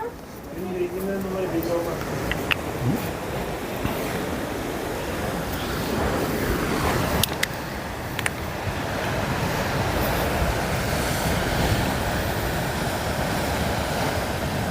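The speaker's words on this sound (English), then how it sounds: "Bit of the sound of the waves." Sea waves on the Ligurian Sea at Portofino at sunset wash steadily onto the shore in a continuous surf roar with wind noise. A voice is briefly heard at the start.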